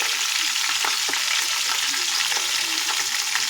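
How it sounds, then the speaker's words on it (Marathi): Everest Kashmiri red chili powder sizzling in hot oil for a chicken dish, a steady close hiss of frying with faint stirring scrapes and no voices. "एव्हरेस्टची काश्मीरी लाल मिरची पावडर वापरतो छान फ्राय करून घ्यायचं जेणेकरून चिकनला रंग छान येईल"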